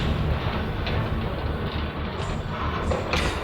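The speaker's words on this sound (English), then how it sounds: "Notice the train is called the Galaxy 5000." Steady rumble and rhythmic rail clatter of the Galaxy 5000 train in Resident Evil 2, a continuous loud rolling drone with faint metallic clicks throughout and no talk over it.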